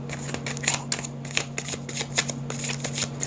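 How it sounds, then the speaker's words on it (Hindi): Tarot cards shuffled by hand close up, with rapid riffling bursts and crisp card slaps at a quick, uneven rhythm over a low steady hum. "एक बार और शफल करते हैं।"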